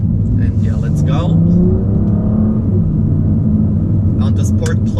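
A BMW M V6 BiTurbo car rumbles with a low steady exhaust drone, swelling slightly as it revs, loud and close, with a voice talking over it.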